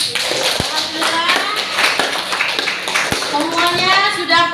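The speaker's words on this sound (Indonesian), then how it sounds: "Tepuk tangan untuk kita semua." Children in a classroom clap hands together amid lively chatter, with sharp individual claps standing out over the noisy room.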